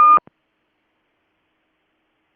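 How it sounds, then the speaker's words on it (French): Short electronic beep during a recorded French lecture; a single brief tonal blip at the very start, then a tiny click and complete silence. "J'ai entendu un bip."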